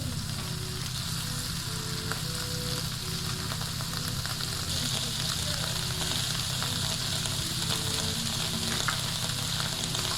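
Scallops and a seafood blend searing in a hot frying pan, a steady, loud crackling sizzle that continues unbroken, with faint background tones beneath it.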